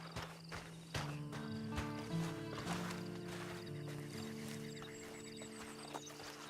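Horse hooves clip-clop in the Red Dead Online video game, with a whinny and background game music.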